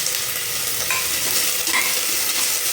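Cloves and cinnamon frying in oil in a pan for tomato kuruma, a constant close hiss and sizzle with a few light stirring clicks, no talk.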